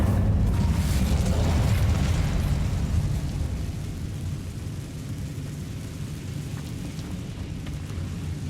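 A loud, fiery spell blast from the Incendio charm in Hogwarts Legacy bursts out at the start, then settles into a sustained rumbling, crackling roar that slowly fades over the following seconds.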